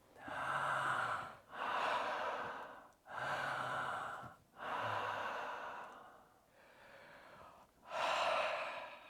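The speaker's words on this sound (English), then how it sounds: "So the mouth breathing will be something like" Slow demonstration breathing, in through the nose and out through the mouth: about five long, close airy breath cycles with brief pauses between them, with no talking.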